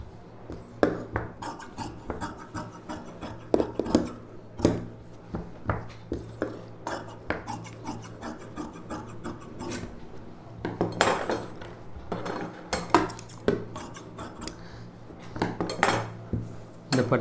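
Scissors cut pieces of silk saree fabric for a puff sleeve blouse, producing a series of crisp, close snips and metallic clicks at an uneven pace over a soft rustling background.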